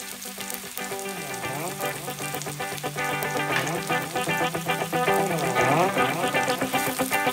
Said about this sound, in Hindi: फिश को हम बहुत लो फ्लेम पे फ्राई करेंगे ताकि फिश हमारी अच्छी तरह फ्राई हो जाए।